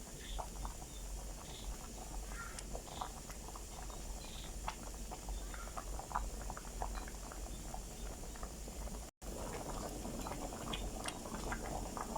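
A pot of bamboo shoots and vegetables bubbles on the heat, a quiet, steady simmer of small pops and gurgles running throughout with a brief dropout near the end.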